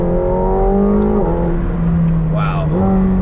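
McLaren 720S sports car launching in second gear, heard from inside the cabin as a loud, steady engine drone with rising and shifting tones and a brief upward sweep, constant throughout.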